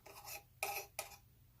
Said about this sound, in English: The voice diaphragm just screws on and off.